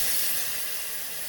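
Bhuna sauce of tomato puree and base gravy frying in a pan, a steady close hiss of sizzling with no voices.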